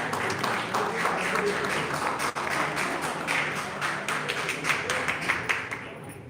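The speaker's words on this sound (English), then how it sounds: "Please give a big round of applause" Conference audience clapping for a jury member being introduced, a moderate, fairly distant patter of hands that holds steady and then tapers off near the end.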